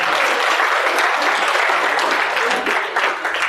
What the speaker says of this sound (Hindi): इस बात पे दोबारा तालियां बजाओ।